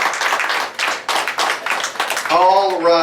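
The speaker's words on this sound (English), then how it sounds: "Do give them another round of applause" A small comedy-hypnosis show audience in a bar and grill breaks into close, steady clapping for a couple of seconds, and then a voice rises over the tail of the applause.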